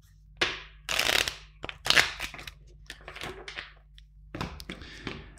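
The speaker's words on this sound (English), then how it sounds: "Two more shuffles" Tarot cards are shuffled by hand in a quiet room, several quick crisp riffling bursts and soft taps of the deck close up, with brief silences between.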